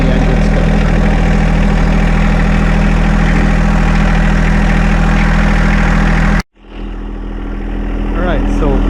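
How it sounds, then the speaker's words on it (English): A John Deere 2025R compact tractor engine runs at a steady, loud idle close by, then cuts out abruptly and leaves only quiet background. "Turn it over to the farthest position, then the engine's going to turn on."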